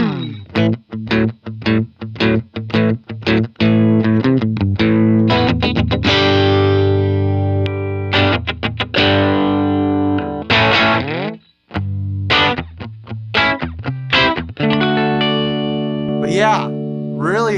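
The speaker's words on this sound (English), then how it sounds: "that bluesy sort of cut through the mix kind of howl you expect from a Supro style amplifier" Electric guitar with crunchy overdrive through a Supro-style amplifier, gritty and mid-focused, playing a bluesy run of chords and picked notes with sharp attacks, sustained ringing stretches and brief pauses, loud and alone.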